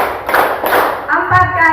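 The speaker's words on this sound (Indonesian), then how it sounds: "Beno berkata beri tepukan 3 kali" A group of teachers at a training session claps in unison on command, giving a few sharp collective claps in a short burst, with a speaking voice around them.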